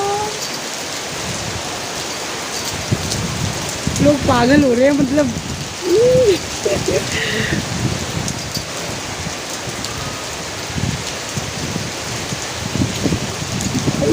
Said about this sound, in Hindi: वाह इतनी ज़ोर से बारिश हो गया